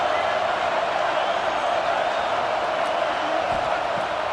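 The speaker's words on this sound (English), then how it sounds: "how nice is it to have the home crowd going absolutely bananas?" Home stadium crowd roaring continuously at an Ohio State versus UCLA college football game, a dense, steady wall of cheering with no clear breaks and a commentator talking over it.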